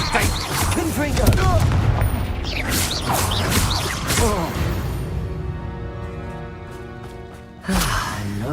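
A Confringo fire spell bursts in Hogwarts Legacy gameplay, a loud crackling explosion over dense game sounds and ringing tones, with another blast near the end.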